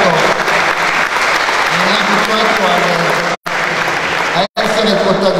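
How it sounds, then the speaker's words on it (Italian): Conference audience applauding at a rural culture and politics convention, loud dense clapping filling the room, briefly cut by two short gaps, with voices blended into the applause. "Un applauso a Davide"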